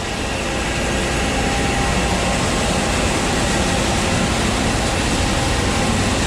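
A corn grain dryer running at harvest, with hot grain coming out of it, giving a loud, steady broadband roar of fans and machinery that holds constant throughout with no voices.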